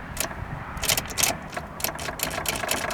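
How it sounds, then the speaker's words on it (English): An old Buick Regal derby car with a moldy interior, its engine cranking but failing to start, heard as an uneven run of clicking, whirring bursts up close with no voices. "Let's see if she cranks."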